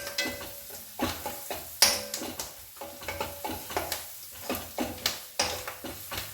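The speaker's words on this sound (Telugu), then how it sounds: "మనం వెల్లుల్లి నూనెలో వేయగానే స్మెల్ చాలా బాగుంటుంది" Garlic sizzles in hot oil in a pan, a steady close crackle broken by regular scraping strokes of a stirring spoon.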